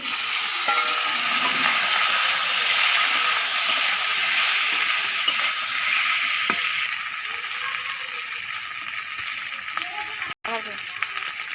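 Gathi taro pieces fry in oil tempered with panch phoron, a strong continuous sizzle and hiss that eases slightly midway, with occasional stirring knocks and a brief clatter near the end.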